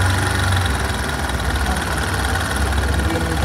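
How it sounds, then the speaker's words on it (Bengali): A Bajaj Discover motorcycle with about 35,000 km idles steadily with a timing chain noise, giving a continuous low engine rumble with an even mechanical rattle, close and constant throughout with no talk. "থেকে একটা শব্দ আসছে, সেটা হচ্ছে মেন হচ্ছে টাইমিং চেনের শব্দ"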